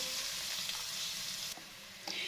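Garlic and ginger with ginger powder frying in a pan for roll patti stuffing, a steady close hiss of sizzling oil with brief stirring scrapes, alone without talk.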